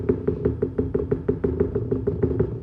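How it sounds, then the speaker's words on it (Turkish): An owl's low, hollow hooting call repeats in a steady, rapid rhythm, about five pulses per second, close and moderately loud with no talking. "Ahlayan bir baykuşla yaşıyorum. Böyle ses geliyor bak."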